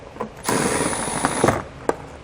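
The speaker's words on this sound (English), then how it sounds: "There are 2 plastic nuts that you'll need to remove to get this panel off. Use a 15mm socket." A power tool with a 15mm socket spinning plastic nuts off a car panel on a 2020 Kia Telluride, a close whirring burst of about a second with a high whine, followed by a sharp click.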